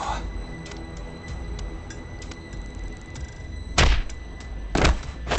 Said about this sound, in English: Why did you punch him out of nowhere like that?